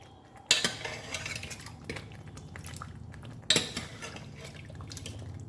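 Mutton being stirred and sautéed in a pot gives two sharp metallic clanks of the ladle against the rim, with softer scraping and clinking in between.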